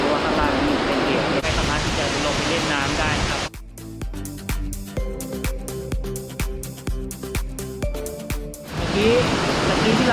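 Water roars steadily at the ninth tier of a waterfall on a Chiang Mai–Lampang trip. Loud rushing water opens and closes the stretch, with plucked music taking over in between.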